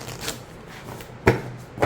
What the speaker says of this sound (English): I can do it this way if I wanted to riffle shuffle